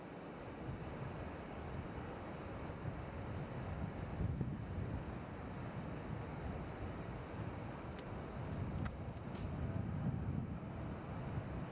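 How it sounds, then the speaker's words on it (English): Steady wind gusts buffet an outdoor microphone at Nashville International Airport, a continuous rumbling rush with no voices, swelling slightly at moments. "The wind has died down some."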